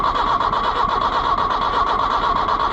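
An Oliver 1365 tractor engine cranks, with a steady, loud mechanical churning and a whining starter tone that holds even throughout. The engine never clearly fires into a run.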